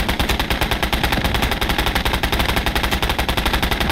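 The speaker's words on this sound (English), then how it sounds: "Oh, getting some hits from Dushka from distance." DShK heavy machine gun in Call to Arms: Gates of Hell fires from long range in a sustained, steady rapid burst of loud, evenly spaced reports, with no talk over it.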